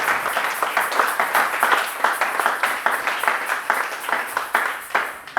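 A church congregation applauds to acclaim Jesus, with steady rhythmic clapping in even beats that carries on throughout at moderate loudness.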